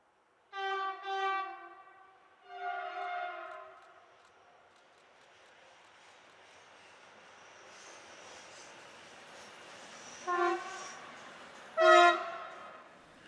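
Swiss locomotives 484 019 and 005 on a GSM-R test run sound two long horn blasts, then a distant rumble rises as the train passes before two shorter, sharper horn toots near the end.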